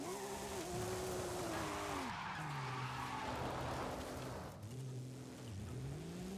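Car sliding sideways in Forza Horizon 5, tires squealing in a long wavering skid over a loud engine drone, close and continuous with no talk.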